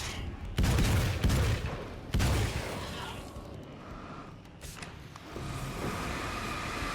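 Shotgun blasts in Alan Wake's American Nightmare, a few heavy booming shots close by, followed by a rumbling lingering din with faint game noises.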